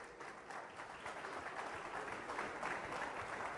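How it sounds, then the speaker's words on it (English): Steady applause from the audience at the launch of the Force India VJM06 Formula One car for the 2013 season, a continuous wash of clapping heard from a distance at low level. "I think that deserves a round of applause"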